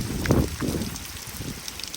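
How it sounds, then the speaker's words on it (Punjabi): Heavy rain driven by wind over a farm field, a dense close patter with gusty rumbling bursts, heard alone without voices. "ਮੀਂਹ ਤੇ ਹਵਾ ਬਹੁਤ ਆ"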